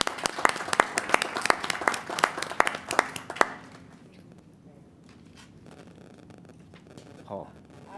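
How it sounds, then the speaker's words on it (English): A round of applause at a council meeting after a budget is presented: a few seconds of lively clapping from a modest group, then it quickly dies away into a quiet room with faint rustling. "let's give them a round of applause"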